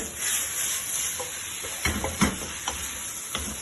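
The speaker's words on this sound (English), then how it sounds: "And hear that sizzling away, beautiful." Sweet and sour pork with noodles sizzles steadily in a hot pan, a continuous frying hiss broken by a few stirring clinks and scrapes, heard close with no talking.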